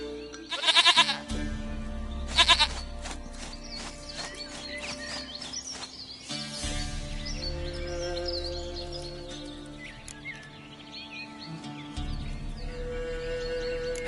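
Two loud goat bleats ring out in the game The Witcher 3, close and wavering, then give way to softer game ambience layered with bird chirps and a low rumble.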